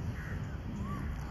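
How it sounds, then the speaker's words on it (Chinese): A crow caws briefly in a leafy park in Malacca, Malaysia, a single short call set against steady outdoor background noise. "都是听到乌鸦的声音了。"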